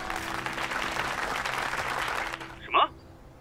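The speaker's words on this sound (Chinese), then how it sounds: "掌声欢迎" A charity auction audience claps for a brand representative coming on stage, a dense burst of applause that fades out near the end, followed by a short sharp knock or thud.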